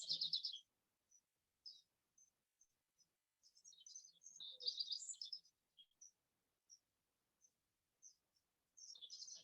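Birds chirp in scattered high calls: a few short tweets, then a busy flurry of song, separated by silent gaps, clear and nearby.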